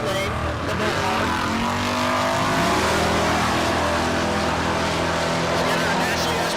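Big block drag racing car with a naturally aspirated engine of 435 cubic inches or more, running in the right lane at a Great Bend, Kansas dragstrip; a loud, steady engine roar with rising revs, with a voice talking over it.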